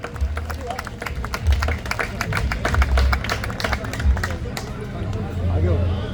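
Dense applause from an audience at a Hanuman Chalisa recitation event in Delhi, steady sharp claps with a murmur of voices underneath, sustained for several seconds.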